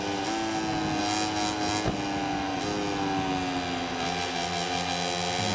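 Racing motorcycle engine from MotoGP 21 at the Australian GP, a continuous high-pitched drone holding near top speed with slight pitch shifts, loud and steady throughout without talk.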